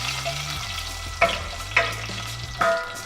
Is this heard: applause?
no